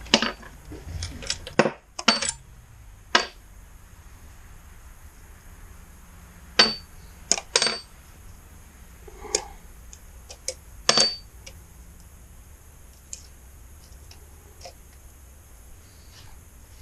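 Small metal washers drop from a 2009 Kawasaki ZX-10R engine case during a rebuild, making scattered sharp clinks and rattles at uneven intervals, close against a quiet background with no talk.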